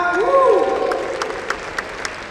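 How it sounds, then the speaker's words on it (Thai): Audience applause fills a press launch of the ZEEKR 7X electric SUV in Thailand, a steady patter of clapping that starts under a voice and then carries on alone. "เสียงปรบมือดังๆครับ"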